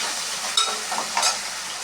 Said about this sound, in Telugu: నేనైతే ఇంకా ఈరోజు మధ్యాహ్నం భోజనం చేసి ఆలూ ఫ్రై అయితే చేస్తున్నాను.